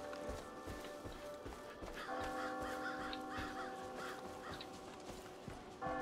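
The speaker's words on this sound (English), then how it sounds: "The crows are a nice touch." Crows caw repeatedly in Far Cry 5, in harsh cries over a steady in-game ambient hum with a few thumping footsteps, at moderate distance and fairly quiet.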